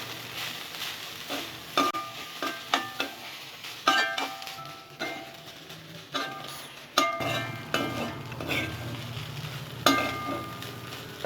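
A spatula stirs and scrapes egg rice in a hot pan, giving irregular clinks and knocks over a steady low sizzle, close up, with no talking.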